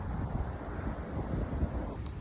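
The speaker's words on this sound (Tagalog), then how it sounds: "Masyadong mahangin." Strong gusty wind buffets the microphone in a park during a mulberry harvest, a loud, constant low rumble of wind noise with no let-up.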